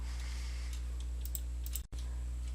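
Typing on a computer keyboard, a run of quiet, fast key clicks over a steady low hum, close and soft, with a brief dropout near the end.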